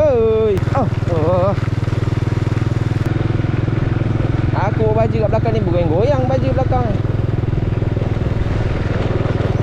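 A motorcycle engine drones steadily throughout, loud and close, while a person talks over it.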